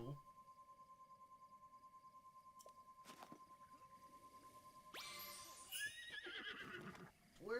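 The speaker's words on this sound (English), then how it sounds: "we're gonna get a horse." A horse in Zelda: Breath of the Wild gives a brief whinny near the end after quiet game ambience, with a steady hum and faint rustles first, then a burst of louder activity; the sound is soft and low overall.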